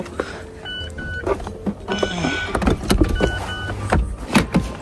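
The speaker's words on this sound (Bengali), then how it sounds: "সো এখন আমি আমার গাড়ির উপরে ছাদটা খুলে নিব" Electric roof mechanism on a convertible supercar whirring open in a series of motor runs with mechanical clicks and clunks, close and fairly loud, with brief pauses between movements.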